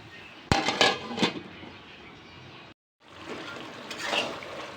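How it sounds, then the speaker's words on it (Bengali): A lid clinks onto a cooking pot of pangas fish in a home kitchen, one sharp metallic tap followed by a couple of lighter rattles, then a soft steady simmer. "আমি এখন ঢাকনা দিয়ে ঢেকে দিব কষানোর জন্য।"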